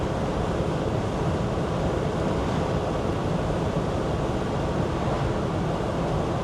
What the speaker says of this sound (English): If you're catching the wind, I apologize. Every window and vent is open in this today.